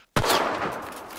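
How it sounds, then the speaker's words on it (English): A single sharp gunshot rings out in Cuisine Royale, loud and sudden after a brief silence, then trails off in a decaying echo. "I hear shooting."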